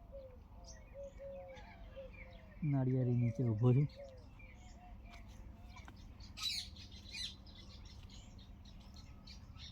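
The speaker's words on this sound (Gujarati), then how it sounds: "પક્ષીઓનો અવાજ, ચીચી ચીચી ચીચી ચીચી" Birds chirp from coconut and jamun trees in a quiet outdoor setting, scattered light calls over a soft background, with a brief louder harsh burst near the middle while someone talks.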